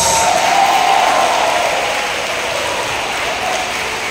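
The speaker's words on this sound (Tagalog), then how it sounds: "Yung palakpak nyo, dinig na dinig ng Diyos" A church congregation at a faith gathering in San Pascual, Batangas claps together, a steady wash of applause filling the space, fairly loud and even before gradually easing off, with no voices over it.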